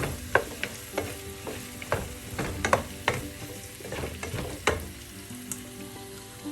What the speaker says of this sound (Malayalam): അരിഞ്ഞു വെച്ചിരിക്കുന്ന ക്യാപ്സിക്കം മൂന്ന് കളറുള്ള ക്യാപ്സിക്കം ചേർക്കാം അത് മിക്സ് ചെയ്യാം